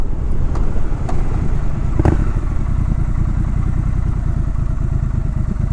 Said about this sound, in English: let you enjoy the exhaust note on these beautiful winding roads